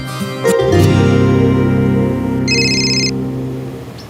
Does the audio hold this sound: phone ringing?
yes